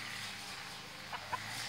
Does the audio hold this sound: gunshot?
no